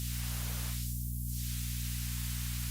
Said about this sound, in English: You can make the hiss louder. You can make the hiss a little darker,